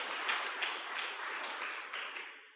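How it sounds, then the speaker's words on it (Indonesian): Church congregation applauding during a Sunday service, a soft, steady wash of many hands clapping together, fairly distant and fading slightly toward the end. "Tepuk tangan dong bagi Tuhan"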